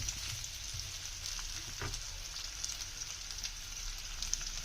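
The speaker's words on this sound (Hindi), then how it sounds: "इसमें बॉइल्ड आलू डालेंगे। अब हम स्लोली इस तरीके से चम्मच घुमाते रहेंगे।" Boiled potatoes stirred slowly with a spoon in frying masala: a soft, continuous sizzling hiss with one brief scraping stroke partway through.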